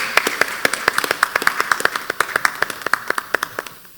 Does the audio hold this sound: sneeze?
no